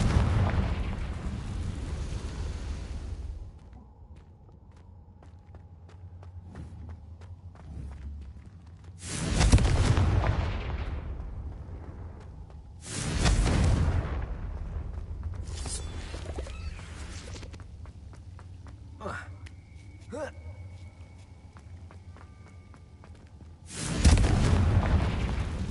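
Confringo explosion spells cast in the Hogwarts Legacy video game, several loud separate bursts spaced across a quiet stretch with fading rumble, light clicks and tones between them.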